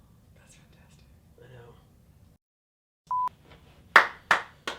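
Hand claps, a few sharp claps in quick succession after a short tone, with soft whispering and murmured talk earlier in the clip, recorded in a podcast studio.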